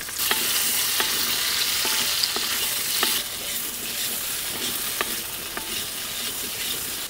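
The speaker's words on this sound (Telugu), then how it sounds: "ఇది ఒక్క 2 నిమిషాల పాటు ఆలుగడ్డ పైన కాస్త బ్రౌన్ కలర్ వచ్చే వరకు ఇలా కలుపుతూనే ఉందాం." Baby potatoes sizzle steadily in a hot pan, close and loud, while a spoon stirs them. Sharp scraping knocks come at an irregular pace over the constant frying hiss, with no voices.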